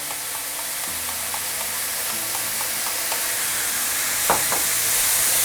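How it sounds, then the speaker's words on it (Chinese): Button mushrooms stir-fried with garlic and scallion in a wok of hot oil, a steady close sizzle with light scraping stirs, and a brief hiss of oil being sprayed in toward the end. "下点蒜米和这个葱花，油有点少，我们再喷点油。"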